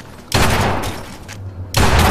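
Loud gunfire bursts in Fallout 4, two heavy volleys of shots separated by a short quieter gap with a low rumble.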